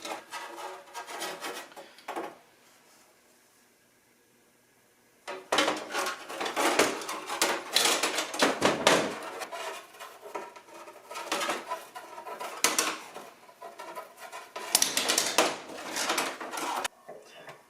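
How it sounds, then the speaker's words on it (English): Air suspension line for a 1976 Mazda RX-5 Cosmo being bent and cut to fit a tank fitting, with close scraping, rubbing and rasping bursts separated by a quiet pause. "Just bend it and cut it till it fits."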